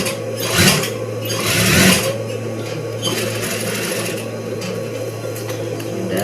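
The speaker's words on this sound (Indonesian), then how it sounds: "Kemudian kita jahit kembali." A sewing machine stitches a men's shirt collar, its steady mechanical whir running continuously and loud, with two brief surges in speed near the start and no talking.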